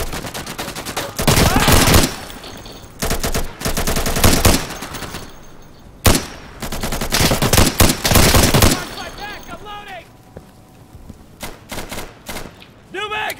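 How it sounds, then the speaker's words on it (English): Bursts of automatic gunfire crack in a gunfight in the video game Insurgency, close and loud at first, then giving way to sparser, more distant shots with quieter gaps between them. "This will probably be a big gunfight coming up."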